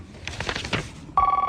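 A telephone line produces a sharp electronic ring or tone that starts abruptly near the end, following a few soft clicks and faint rustles, heard close and loud.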